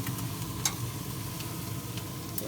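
Mud crab meat on a Yoder YS640 smoker giving a quiet, steady sizzle, with a few faint clicks and ticks as the pieces are turned over.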